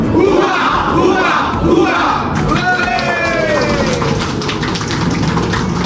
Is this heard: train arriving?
no